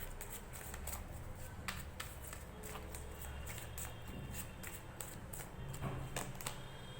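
Tarot cards shuffled and drawn by hand, a quiet series of repeated crisp riffling and flicking bursts in an uneven rhythm, close and soft.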